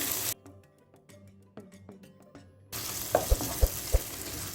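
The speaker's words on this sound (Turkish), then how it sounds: "Şöyle bir karıştıralım." Minced meat with tomato sauce is stirred in a pot: quiet spoon clicks at first, then a close, broad sizzle rises with several soft thumps from the spoon against the pot.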